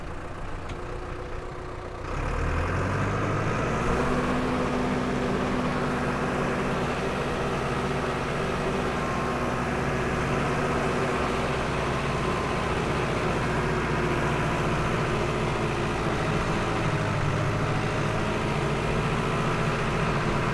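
A tractor pulling a moldboard plough through soil starts up loud and close with a low engine drone, which then settles into a steady, heavy rumble that holds without a break and carries no speech.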